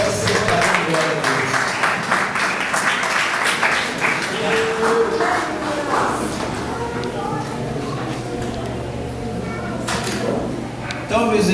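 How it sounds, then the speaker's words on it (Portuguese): A church congregation at a Portuguese-language worship service claps, loud at first and thinning out, while a preacher's voice carries over it. "Pode aplaudir o nome do Senhor Jesus."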